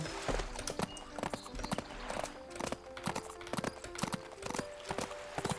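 Repeated hoof clip-clops from a horse in the video game Adventures with Horses, a fast steady patter of close, fairly loud steps running throughout with no talk over them.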